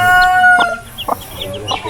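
Chickens clucking close by in a farmyard, several short overlapping clucks over a low background hum.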